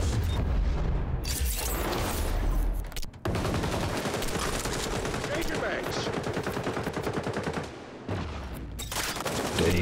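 AK rifle fire in a shooter video game: long, loud, close bursts of rapid automatic shots with brief pauses between strings, punctuated by heavier booms.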